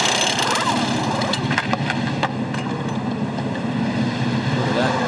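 A V8 Supercar racing engine at the 2011 Gold Coast 600 holds a loud, dense, buzzing roar while bouncing on the rev limiter, with a commentator speaking over it throughout.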